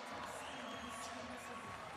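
A volleyball crowd cheers in approval during a women's college match between Purdue and Washington, a steady, dense roar of many voices filling the arena.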